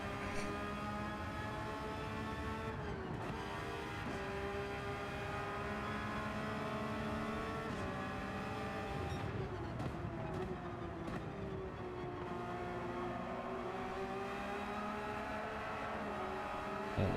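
Race car engines roar continuously at Yas Marina in Gran Turismo 7, several cars droning together with rising and falling pitch as they shift and pass, loud and steady throughout.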